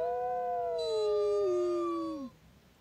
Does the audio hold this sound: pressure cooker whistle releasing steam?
no